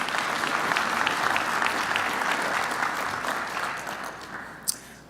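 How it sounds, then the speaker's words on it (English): An audience applauds a speaker at an industry update talk: dense, steady clapping from a sizable crowd that gradually tapers off, ending with a single sharp knock. "Give a round of applause for Michael Kinslick."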